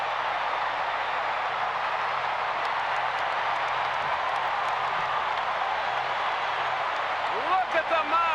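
Packed baseball stadium crowd roaring after an Atlanta Braves walk-off home run, a dense, continuous wall of cheering and clapping that stays loud throughout, with a commentator's voice coming in at the very end.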